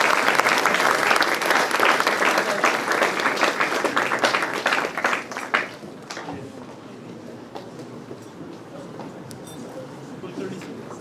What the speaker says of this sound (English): Please give a round of applause, everyone.